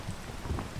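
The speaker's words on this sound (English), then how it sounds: "And yeah, there is rain, which is kind of unfortunate." Steady rainfall in the video game PEAK, a dense, even hiss of falling rain with low rumbling underneath, moderately loud and without talk.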